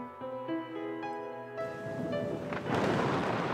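In an audio story, a sustained musical tone gives way to rolling thunder and a rising wash of heavy rain that grows loud and noisy by the end.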